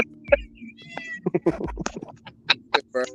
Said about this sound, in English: who the fuck got a cat?